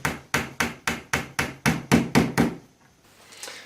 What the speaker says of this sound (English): Poke it in there, tap it down gently.